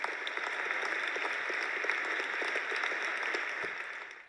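A canned applause sample triggered from a soundboard on a Mac plays as an even, dense burst of crowd clapping for about four seconds before cutting off cleanly.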